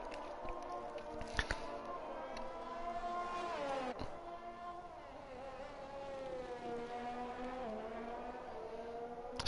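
Race car engine on an out lap in a sim racing game at Brazil, a continuous buzzy tone that rises and falls through gear changes, with a brief click and a louder burst near the end.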